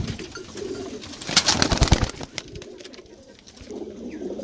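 Pigeons coo on a rooftop loft in Azad Kashmir, a soft, low throaty cooing that rises to a louder burst midway, heard close against light outdoor background noise.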